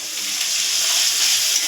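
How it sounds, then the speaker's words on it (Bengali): Prawns sizzle loudly in a hot pan during home cooking of a potol-and-prawn dish, a dense, steady crackling hiss close by with no talking. "এবার চিংড়ি মাছ ভাজবে আই থিঙ্ক।"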